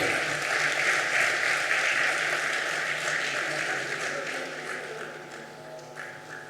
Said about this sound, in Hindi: बच्चों के उत्साह वर्धन के लिए तालियां बजाते रहें